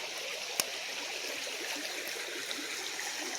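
A steady, moderately distant rush of water flowing through a big culvert, a continuous broadband wash with one brief click, no voices.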